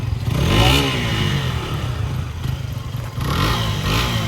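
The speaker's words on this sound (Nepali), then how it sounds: "विकेश साई त्यहाँ बाइक चलाउनु लागेको छ" A motorcycle engine drones and revs close by, rising and falling in pitch with a couple of louder surges, with rattling clatter throughout.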